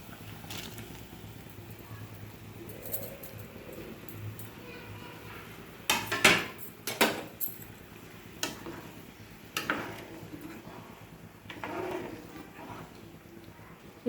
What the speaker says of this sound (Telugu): దీంట్లో మనం ఇందాక ఫ్రై చేసి పెట్టుకున్న మష్రూమ్ అండ్ కాజు వేసుకుందామండి.